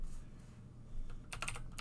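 A short burst of computer keyboard typing as a Linux command is entered, a few quiet clicks followed by a quick, clustered run of keystrokes, close and alone.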